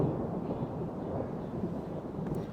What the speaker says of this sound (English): I love a good thunderstorm